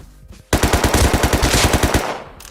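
An AK rifle fires a sustained automatic burst in the survival game Rust, about fifteen rapid, loud, close shots in an even rhythm lasting around a second and a half before cutting off.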